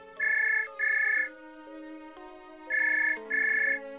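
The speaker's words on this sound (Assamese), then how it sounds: "তেনেতে ফোনটো বজি উঠিল।" A telephone ringtone sounds in two pairs of bright electronic ring bursts, clear and prominent over soft background music, with no voices.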